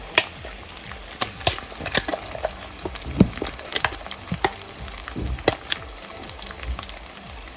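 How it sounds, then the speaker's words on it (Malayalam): Ground coconut paste for a kingfish curry goes into a hot pan on medium flame, giving a crackling sizzle with scattered sharp pops and scraping knocks up close. "മീഡിയം ഫ്ലെയിമിൽ ഇട്ടിട്ട് നമുക്കിതിലേക്ക് അരപ്പ് ചേർത്ത് കൊടുക്കാം"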